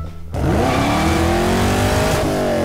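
A car's engine revs hard as it pulls away, the loud close roar climbing steadily in pitch, easing briefly, then rising again. No one talks over it.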